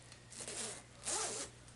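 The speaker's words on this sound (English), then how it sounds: "zip this up" A zipper is drawn up on a Spider-Man suit worn like a jacket, giving a short rasping zip near the mic, with a brighter, louder stretch toward the end of the pull.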